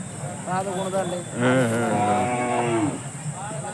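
Cattle at a livestock fair in Cheluru, Gubbi, Tumakuru, with a bull calf nearby, give a long, loud low moo partway through, with people talking around it.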